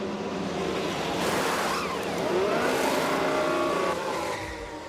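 Ferrari Formula 1 cars in F1 Manager 22 rolling into the pits, a broad roaring engine wash that swells and fades like passing cars, with whooshing noise layered throughout.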